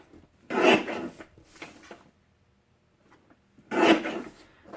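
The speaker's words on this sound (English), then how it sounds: "we're going to trim vertically at 4 1/4" A paper trimmer slices through cardstock panels, with two quick rasping strokes, a faint scrape after a pause, then one more loud slide, each sharp and close.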